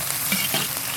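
Fennel seeds, scallion and ginger fry in hot red oil, a brief, steady, close sizzle with a faint stirring scrape and no voices.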